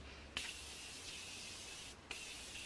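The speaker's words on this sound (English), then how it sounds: "So I'm gonna go ahead and spray my face before I jump into the eyes." A steady, hissing spray of fine setting mist onto a face runs for about two seconds, bracketed by short sharp bursts at the start and end, close to the microphone.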